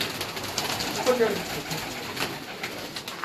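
Pigeons of prized breeds coo softly in the background of an open rooftop loft, low murmurs under a noisy, busy ambience.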